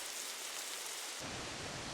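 Rain falls in a hot, wet valley on Haleakalā in Hawaii, a steady, dense hiss that fills the whole clip at a constant level, with a deeper rumble joining partway through. No voices are heard.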